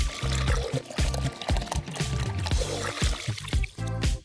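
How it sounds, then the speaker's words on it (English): Water is poured into a small container to fill a miniature doll pool, giving a splashing, gurgling stream with short bursts over background music. "Now we'll fill up a smaller container with water."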